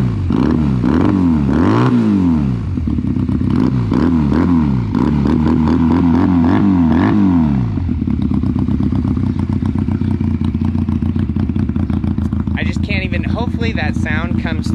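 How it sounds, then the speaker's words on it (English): Honda Rebel 250 parallel-twin motorcycle engine revving up and down in repeated swells, then settling into a steady idle with a loud, close, throaty tone; people talk over it. "I want you guys to hear this bike, because for a parallel twin 250, 233 technically, it sounds so good."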